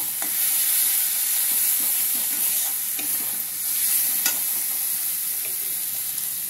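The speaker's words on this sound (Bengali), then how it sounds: "হলুদ লঙ্কা জিরে ধনে যে মশলাটা জল করে রেখেছিলাম ওই জলটা এবার আমি দিয়ে নেব" Fried turmeric, chilli, cumin and coriander paste is stirred in a pan after spice water is poured in, giving a loud, steady frying hiss with scattered spoon scrapes throughout.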